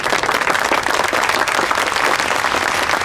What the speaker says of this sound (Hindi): चंदा के लिए ताली बजा दो एक बार।